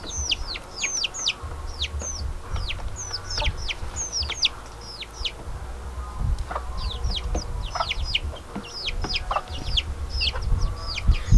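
Backyard chickens, a mother hen with newly hatched chicks, make repeated high peeping chirps over low clucking, a busy, continuous flock chatter at close range.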